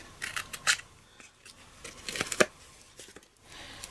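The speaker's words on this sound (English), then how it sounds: "I'm going to cut another narrow strip" Scissors cut a narrow strip of paper for a floral Valentine card, making a series of close, crisp snips and rustles in uneven bursts with quiet gaps between.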